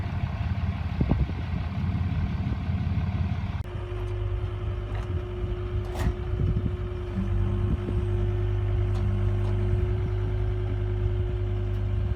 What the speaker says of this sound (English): So we got the Dodge diesel to tow her down to the new owner.